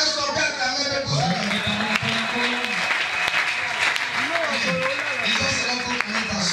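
A church congregation at a French-language Pentecostal service claps and cheers loudly and steadily throughout, while a preacher's amplified voice carries over the applause.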